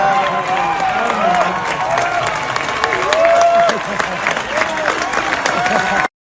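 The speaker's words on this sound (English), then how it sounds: "You hear all the people clapping." Crowd clapping and cheering from a played recording of a public speaking event, steady dense applause with shouts filling the whole stretch before cutting off abruptly.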